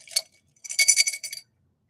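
Longchamp crystal glassware clinks as it is handled, a short bright tap followed by a cluster of rapid delicate rattling chimes, close and fairly clear, with no talk.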